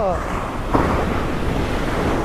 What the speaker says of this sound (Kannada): ಅಲೆಗಳು ಸದ್ದು ನಮ್ಮ ದನಿ ಕೇಳಿಸ್ತೈತೆ ಇಲ್ಲೋ ಗೊತ್ತಿಲ್ಲ